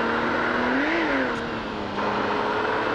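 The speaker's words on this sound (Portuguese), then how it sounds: "Terceira marcha tá pegando bem a velocidade" A Nissan Skyline R34 engine in the BeamNG.Drive driving game accelerates in third gear on a street, a loud steady whine rising in pitch with a brief dip, no talk.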